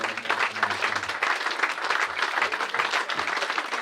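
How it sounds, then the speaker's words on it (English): An audience at an awards presentation night breaks into loud, sustained applause, with dense clapping continuing steadily from start to finish. "So just another round of applause for Anna, just to embarrass her."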